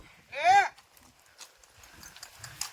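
A mare walks in a wedding procession, her hooves clopping faintly and unevenly. A short, loud whinny-like cry rises near the start, and soft voices murmur in the background.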